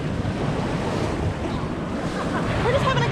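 Ocean surf washing steadily onto a beach, a continuous broadband rush with some wind buffeting the microphone throughout.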